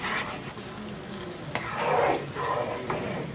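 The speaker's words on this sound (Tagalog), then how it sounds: "lulutuin lang natin ito hanggang sa medyo mag-thicken yung ating sauce" Sweet brown sugar sauce for suman simmering and thickening in a pan, with a steady soft bubbling sizzle and occasional stirring scrapes, close and moderately loud, no talk.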